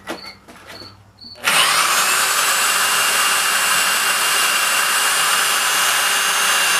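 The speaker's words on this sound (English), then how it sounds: "I want to come over here and drill the next hole." A power drill boring a hole while mounting a sleeve hitch, starting after a second of quiet handling noise, then running loud, close and steady for the remaining seconds without pause.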